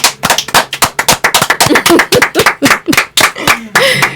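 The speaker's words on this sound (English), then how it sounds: "Everybody give a round of applause." A few podcast hosts clapping to welcome a guest, sharp close individual claps in an uneven rhythm, with voices cheering briefly at the end.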